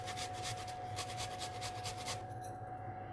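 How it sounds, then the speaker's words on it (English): Fresh ginger is grated in quick, rhythmic rasping strokes, quiet and close, for a potato chutney, stopping near the end. "I'm going to grate in an inch or so of ginger"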